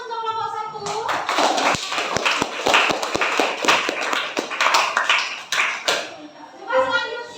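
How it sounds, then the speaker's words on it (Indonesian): Classroom audience applause for a student group, a lively patter of many hands clapping for several seconds, with a teacher's voice and children's chatter around it. "Kasih aplaus untuk kelompok 1."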